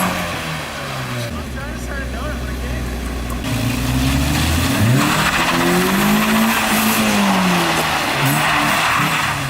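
A Nissan 240SX does a reverse burnout, its engine revving hard as the tires squeal in long rising and falling wails under a loud roar, close and aggressive, with voices mixed in.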